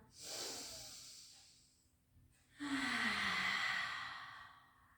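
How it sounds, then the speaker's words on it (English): Deep breaths in and out during a pilates stretch for rehab: a long, airy inhale followed by a fuller, louder exhale, close and alone, with no talking. "just take some deep breaths in and out"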